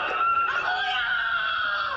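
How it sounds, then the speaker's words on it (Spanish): A child screams in anguish at the scene of a shooting, a sustained high, strained cry that holds steady for about two seconds with no other voices over it. "Un niño grita"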